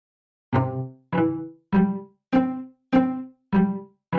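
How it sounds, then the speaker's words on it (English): String sound from the Chrome Music Lab Song Maker: seven plucked-sounding notes in an even pulse, each quickly fading before the next. The notes are close and alone, with no voices. "We can do strings."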